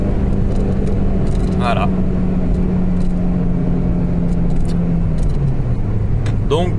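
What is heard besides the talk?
Citroën Xsara 2-litre 16-valve car accelerating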